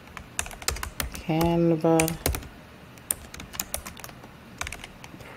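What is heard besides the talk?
typing on a computer keyboard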